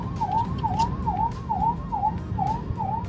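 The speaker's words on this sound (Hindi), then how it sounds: "ये पीछे एम्बुलेंस अटकी हुई है ना?" An ambulance siren wails in a steady, repeating rising-and-falling cycle, loud and fairly close, stuck in traffic over a low rumble of road noise.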